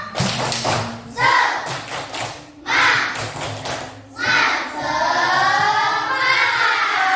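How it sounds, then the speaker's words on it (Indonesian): A school class of children performing a rhythmic spirit clap chant, with bursts of synchronized clapping and thumps alternating with children's voices chanting together, close and lively. "Coba cek semangatnya dengan tepuk semangat."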